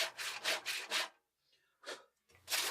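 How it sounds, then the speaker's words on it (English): A crosscut saw cutting oak wood across the grain, with four quick rasping strokes in a regular back-and-forth rhythm, a short pause, then two more strokes, close and clear. "A well-sharpened crosscut saw really will slice through wood across the"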